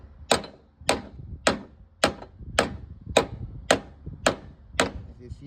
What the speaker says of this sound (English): next thing you want to do is hammer the pins out of both of them